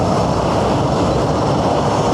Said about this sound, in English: Guessing there's an ATR coming in Exeter.